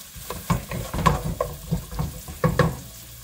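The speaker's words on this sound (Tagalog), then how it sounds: "Sibuyas na, sibuyas. Ayan natin siyang luto ng bahagya." Onions sautéed in a pan for pesang dalag, a soft frying sizzle under repeated scraping and stirring strokes that come in irregular bursts, close and fairly quiet.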